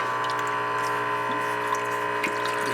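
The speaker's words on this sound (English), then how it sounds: "I'm basically just recirculating water with some cleaning vinegar in it through the block" Water mixed with cleaning vinegar being pumped through the engine block of a 1955 Buick Century during a cooling system flush: a steady low hum and gurgling flow with faint drips, continuous and moderately quiet.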